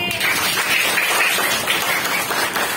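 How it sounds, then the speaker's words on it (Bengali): Students in a classroom burst into loud, fast clapping that runs steadily for a few seconds, with many hands close by and no talking over it. "জোরে হাততালি।"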